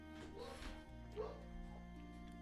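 A dog yips and whimpers indoors, short high calls rising over a steady electronic hum and tonal background, fairly quiet.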